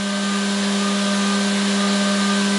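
Haas or Makino CNC milling machine cutting with a quarter inch end mill at 12,000 RPM and 150 inches a minute, a steady loud whine with strong sustained tones and constant cutting noise throughout.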